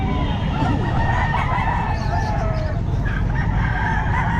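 Roosters at the Calumpit pet market give several overlapping crows over steady crowd murmur, loud and close, with other fowl clucking around them.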